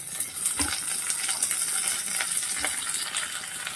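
Potato and aubergine pieces fry in a pan with a steady, bright sizzle, punctuated by a couple of soft clinks and stirring knocks, close and continuous without speech.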